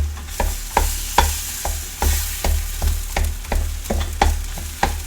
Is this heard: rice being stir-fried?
yes